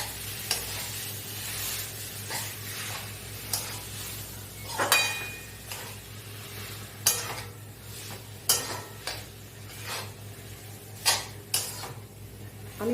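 Wet stirring and scraping of a smashed chicken and vegetable burger filling being mixed in a bowl, with irregular clinks of a utensil against the dish and a low steady hum underneath.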